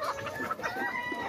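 Local free-range chickens cluck in a short, steady run of close, moderately loud calls with a few brighter squawks mixed in, and no talking over them.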